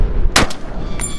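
A single Barrett .416 rifle gunshot at an outdoor range. One loud, sharp crack is followed by a short echo and a faint second report.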